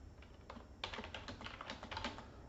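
Quick bursts of typing on a computer keyboard, soft clustered key clicks in short rhythmic runs with brief pauses between, close and fairly quiet, no voices.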